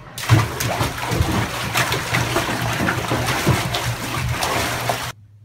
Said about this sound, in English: Oh boy, water!